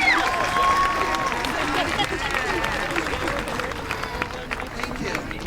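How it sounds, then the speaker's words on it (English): Graduates at a San Bernardino Valley College commencement in 2019 giving a big round of applause, a broad, sustained wash of clapping from a large crowd with scattered cheers in a spacious venue. "Graduates, let's give our family and friends a huge round of applause."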